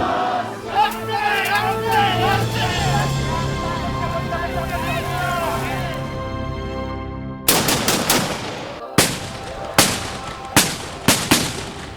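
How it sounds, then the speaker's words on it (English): Traditional matchlock muskets fire in a series of sharp, loud reports, several shots spaced unevenly after a stretch of sustained tonal music, each blast echoing briefly. "frightening sound of muskets"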